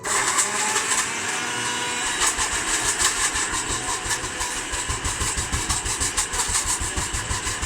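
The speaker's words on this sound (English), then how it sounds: "now I'm going to whiz this up now before we put the shallots in" A blender whizzing Thai red curry paste, a steady motor whir that grows into rapid pulsing chops toward the end, loud and close with no talking.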